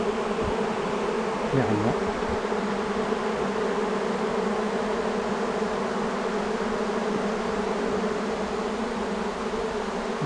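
A swarm of honeybees in an attic, a dense, loud, continuous buzz filling the space close by, with a single brief spoken word over it.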